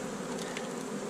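Honey bees buzz steadily around a large, crowded beehive in South Carolina in January, a dense continuous drone close by with no voices.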